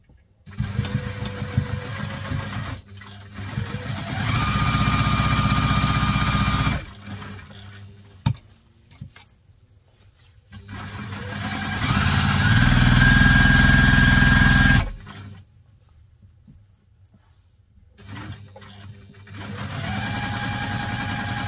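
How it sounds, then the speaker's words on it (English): A sewing machine stitches a seam on a laptop briefcase in loud, steady motorized bursts of several seconds each, separated by quiet pauses and a few clicks. "I'm going to sew down the seam."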